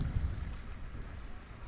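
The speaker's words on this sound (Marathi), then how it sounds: "आणि पाऊस पण आलाय." Rain falls at a small ferry jetty in Konkan, a steady, even hiss of rainfall with a low rumble underneath, briefly heard without voices.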